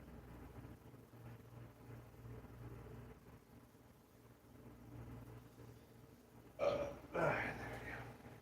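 A single short burp erupts near the end, rough and fairly close, standing out over a quiet low room hum with no one talking.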